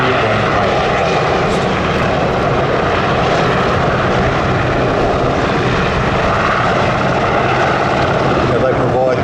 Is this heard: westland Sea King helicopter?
yes